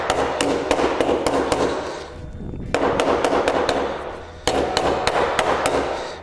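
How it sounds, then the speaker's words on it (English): A panel hammer taps the edge of a car body repair panel in quick, steady bursts of sharp ringing strikes, close and loud, pausing briefly between runs. "what I'll do now is just grab my panel hammer and I'll just tap around the edge of it"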